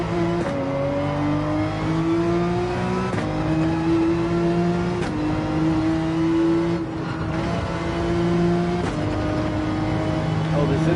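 A race car in the video game Gran Turismo 7 drifts through a turn, its loud, close engine note climbing steadily, then dropping back with each of several quick gear shifts, over a constant wash of road and tire noise.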